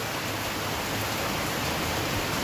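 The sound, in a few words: heavy rain with wind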